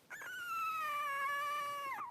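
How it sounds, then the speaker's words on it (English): A three-week-old puppy gives a single drawn-out howl, a clear tonal whine that starts with a small yelp, holds steady for nearly two seconds and then trails off, close and alone. "Oh my, who's howling?"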